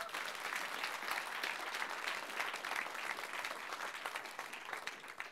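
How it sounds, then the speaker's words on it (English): An audience at a live science-communication competition semi-final claps in sustained, even applause, a dense, steady patter that fills the room, moderately loud and without talk over it. "could you give them a round of applause now, please?"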